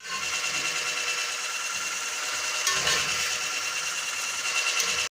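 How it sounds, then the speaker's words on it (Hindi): An electric blender whirs steadily as it mixes marble cake batter with added milk, a loud continuous motorized drone filling the whole stretch with slight shifts in pitch and no speech over it. "अब इसको मैं ब्लेंड करूंगी।"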